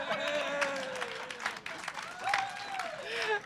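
Audience applause for a lighting crew member on a polka music show, clapping running under a host's voice with rising and falling spoken intonation over it.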